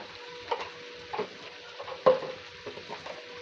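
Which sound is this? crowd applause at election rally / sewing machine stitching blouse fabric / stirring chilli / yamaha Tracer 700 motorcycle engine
stirring chilli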